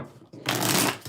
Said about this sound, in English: Let's get 5 shuffles here for a quick vibe check.